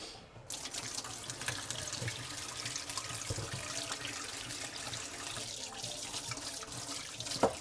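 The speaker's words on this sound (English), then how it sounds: "Right, now I've got to clean this chopping board." Tap water running into a kitchen sink while a chopping board is rinsed, a steady close splashing stream with small knocks and shifts as the board is handled, no talking.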